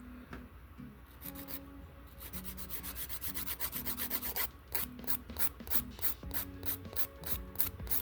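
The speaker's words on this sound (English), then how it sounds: "once you're done filing them, you can go in with a buffer and smooth it out even more" Nail file rasping off a gel nail enhancement that can't be soaked off, a steady run of quick close back-and-forth strokes that speeds into a dense rhythmic scratching, with no talking.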